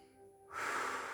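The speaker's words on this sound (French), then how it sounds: "soufflez 3-4 fois d'affilée" During a gentle stretching breathing exercise, a short, soft breath is followed by a single forceful exhale that rushes out close and breathy.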